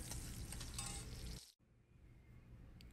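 Ginger sizzling and frying as it is stirred in a pan for dinuguan, a loud steady crackle that cuts off abruptly halfway through, leaving a quieter, fainter sizzle.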